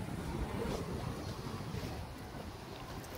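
Strong wind buffets the microphone over rough sea waves at Mauban, Quezon, a continuous loud roar with low rumbling surf and no talk.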